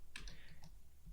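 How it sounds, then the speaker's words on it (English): Faint, quiet clicks of a computer keyboard, a few taps spaced over about a second as keys, including Enter, are pressed, with no talking. "I'm going to hit Enter on my keyboard to rename it."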